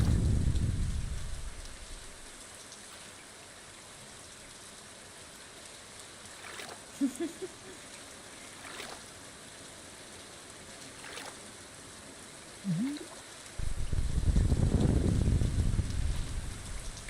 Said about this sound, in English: the thunder is such a vibe. It's so cozy.